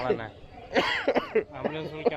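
A person with a cold coughs several times in short rough bursts, close and loud, mixed with their own talking.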